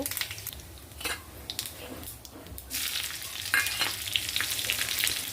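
Cumin seeds sizzle in hot oil as a tempering for a fasting-day chutney, a soft crackle that swells into a brighter, denser hiss after a few seconds, with light utensil clinks.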